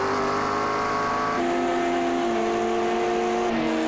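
Sim race cars at Road Atlanta in iRacing, several engines droning and shifting pitch together as they jostle for position, one car dropping gears with a rising rev near the end, loud and steady throughout.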